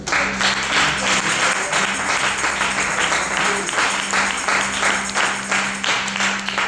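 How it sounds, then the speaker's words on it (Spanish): A church congregation applauds in a Spanish-language service: sustained, crackling clapping from many hands fills the room at a fairly even level, with a low steady hum and a few faint voices beneath. "El aplauso a Cristo."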